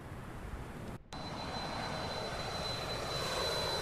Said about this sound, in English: No, they're coming in by plane.